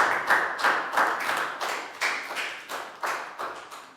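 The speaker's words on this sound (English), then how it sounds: "Round of applause for everyone" A small group in a Year 3 classroom claps in a steady, rhythmic pattern, with sharp, close hand claps repeating about every half second and no talking over them.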